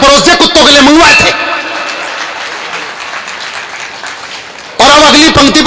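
Audience clapping at a Hindi comedy poetry show, a steady wash of applause for several seconds between stretches of the poet talking into a microphone.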